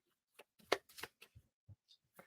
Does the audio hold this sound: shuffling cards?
yes